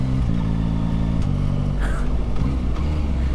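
A 2023 Yamaha Tracer 9 GT Plus sport-touring motorcycle with a third-generation quick shifter runs its engine, revving loudly and steadily nearby with a smooth rising and falling tone throughout.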